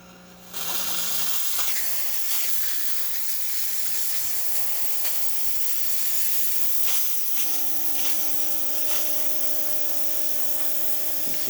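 A La Pavoni espresso machine's steam wand, freshly serviced after a full tune-up, lets out a loud, steady hiss of steam that starts abruptly and runs unbroken, with a faint low hum joining partway through.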